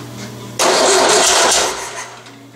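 A VW 1600 dual port engine cold-starts after a short crank, catching suddenly into a loud, rough roar that holds for about a second before settling toward a lower idle, close by.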